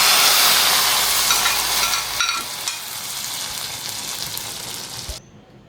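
Mustard seeds, urad dal and buttermilk chillies fry in hot oil for a South Indian tempering, giving a steady close sizzle and crackle that fades slightly before cutting off near the end.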